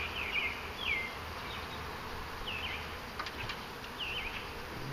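Honeybees buzz steadily during a hive inspection, a dense, even drone close by with a few brief higher chirping calls over it and no talk.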